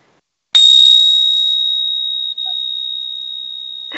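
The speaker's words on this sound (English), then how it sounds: "For those of you that can see it, you can see I'm holding chimes." A single chime is struck once and rings out as one clear, sustained high tone. It fades slowly over several seconds, in a quiet room with no talking.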